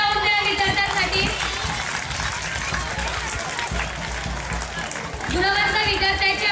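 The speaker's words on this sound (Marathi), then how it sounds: "जरा जोरदार टाळ्या वाजवून द्या या विद्यार्थ्यांसाठी।" A school audience applauds students at a prize-distribution ceremony, a sustained crowd clapping that fills the middle of the clip between stretches of amplified music or announcement at either end.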